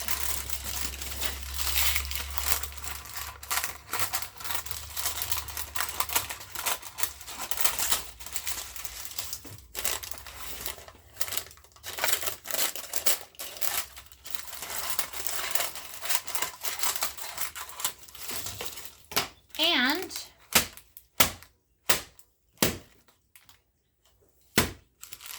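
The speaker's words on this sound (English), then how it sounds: "I just like to trim up this extra paper." Scissors trimming excess paper around a jar of white cake mix, a steady run of close crinkling snips and paper rustles, followed by a few sharper isolated cuts near the end.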